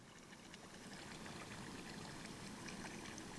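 Steady, soft gurgling of clear water flowing out of a cool spring pool, a continuous trickling stream with no voices, fairly quiet and even throughout.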